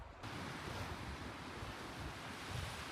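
Strong wind buffets the microphone on a coastal cliff above maritime grassland, a steady loud roar of gusts mixed with distant surf, no voices.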